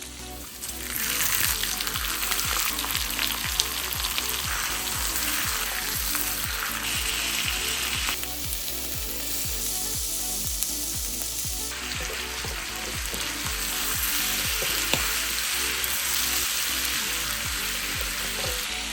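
Steady crackling sizzle of pork frying in a hot pan, continuous and fairly loud, with faint scraping stirs and no voices.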